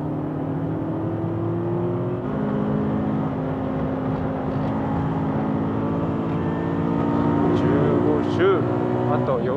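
Car lapping a track during an engine-oil endurance test, its engine droning steadily at a distance with a constant hum and slight rises in revs.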